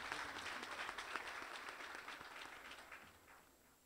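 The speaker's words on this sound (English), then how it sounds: "Let's give him another round of applause." Audience applause at a Hindu graduation ceremony, a steady wash of many hands clapping together that stays fairly strong and then slowly tapers off, with no talking over it.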